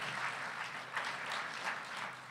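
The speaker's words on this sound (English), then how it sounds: "Let's give him a big round of applause." Applause from a crowd at a charity gala auction, steady clapping with slight swells, fairly faint and distant.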